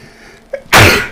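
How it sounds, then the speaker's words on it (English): A single loud, close human sneeze, a standard sneeze rather than a sick one, bursting out after a short sharp inhale and a brief quiet moment. "that's just a standard sneeze, not a sick sneeze"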